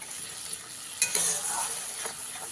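A turmeric spice paste with mustard fries over a medium gas flame, giving a close, continuous sizzle broken by a few sharp scrapes and clatters as it is stirred in the pan.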